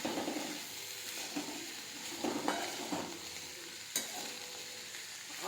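Sprouted seeds frying in a little oil in a pan, a steady soft sizzle broken by the scrape and clink of a spoon stirring at intervals, close and without talk.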